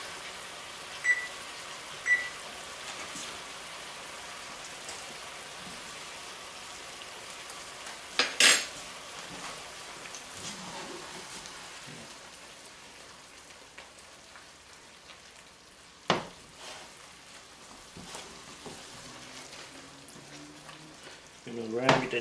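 Pork steaks frying uncovered in a pan, a quiet steady sizzle broken by a few sharp clinks and scrapes of a utensil as the meat is turned.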